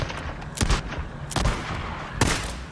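Three sharp gunshot bursts ring out at spaced intervals during a Days Gone cave ambush in the PS5 game, each loud crack fading over a low ambient bed.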